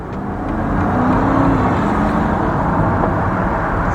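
A BMW XM G09 SUV running in hybrid mode, its engine humming steadily while charging the battery, a continuous close engine drone with a slight rise in the first second and no talk over it.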